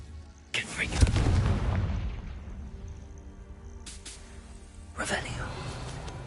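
A Confringo fire spell from the video game Hogwarts Legacy bursts with a loud, booming blast that rumbles and fades over a couple of seconds, and further sharp bursts follow later. Speech is also present around the blasts.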